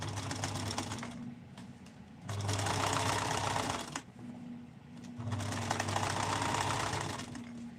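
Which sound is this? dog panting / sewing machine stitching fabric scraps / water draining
sewing machine stitching fabric scraps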